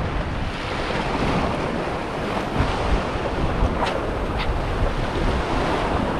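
Sea waves wash and roll in a constant, loud churn, heavily mixed with gusting wind buffeting the microphone, with no voices heard.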